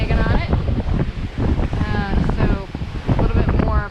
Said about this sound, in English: Some pretty big waves coming in here.